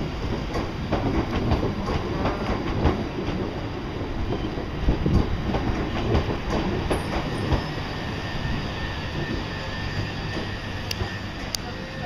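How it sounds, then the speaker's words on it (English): A Class 377 train rumbles past on the tracks at Lewes, wheels clattering rhythmically with occasional high squeals, loud and continuous throughout. "That's an odd sounding train."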